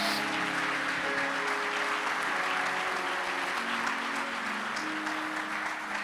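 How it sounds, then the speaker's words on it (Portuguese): A congregation applauds the Lord at a Portuguese-language church service, a dense, steady wash of many hands clapping continuously at full volume with sustained musical tones underneath. "Aplauda ao Senhor por isso."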